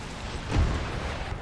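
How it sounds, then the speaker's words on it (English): In an Empire Total War battle, a grenade goes off as a single deep, muffled boom partway through, rising out of a constant rumble of distant battle noise. "They're throwing grenades here."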